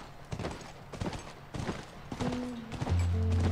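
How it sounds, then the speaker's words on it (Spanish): A horse gallops across a mountain in the video game The Last of Us, its hooves beating in quick, rhythmic clusters at moderate volume, with a low steady drone rising toward the end and no speech. "Y vamos cabalgando por toda la montaña."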